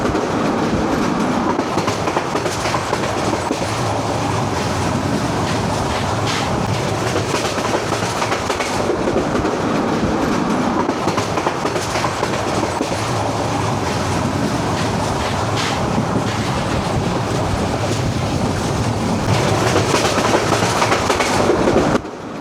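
A passenger train on the Dhaka to Cox's Bazar route rolls steadily along the tracks, its wheels beating a continuous clickety-clack with a loud, close rumble throughout and no voices.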